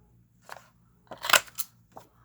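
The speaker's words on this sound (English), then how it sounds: "So I'm just using my fancy scissors here." Fancy craft scissors snip through paper for a Halloween junk journal, giving a few short crisp cuts: a small one, then a louder cluster of crunchy snips and a faint final snip, close up with no talk.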